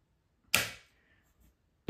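Fire selector on an LCT PP19-01 Vityaz airsoft gun clicking into position, one crisp mechanical click followed by a second sharp click at the end, close and alone in a quiet room.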